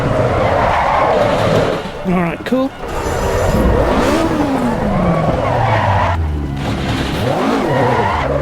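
Tires squeal and skid as an AE86 spins out under trail braking in the racing game Assetto Corsa Evo, with engine revving and a wavering screech under a man's brief spoken remark.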